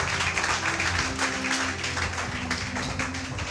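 A church congregation applauds and acclaims Jesus during a French-language service, with dense, sustained clapping and cheering filling the room under steady music.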